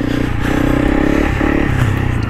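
A Honda CRF300 Rally motorcycle is ridden nearby, its engine giving a loud, steady low rumble with some rattling over rough ground.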